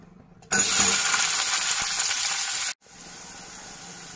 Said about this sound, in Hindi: असांखे बसर हिकिड़ो मिंट फ्राई करणो आहे।